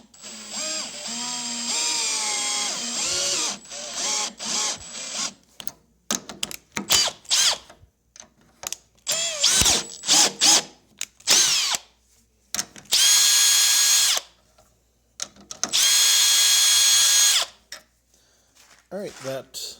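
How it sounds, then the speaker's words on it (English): A power drill in low gear with a socket adapter in its chuck drives a bolt into a threaded insert for a waterwheel build, running in several short whirring bursts separated by pauses, with two longer, louder runs near the end and some talk early on. "I have a bolt threaded in the insert and a socket adapter in my drill chuck in low gear."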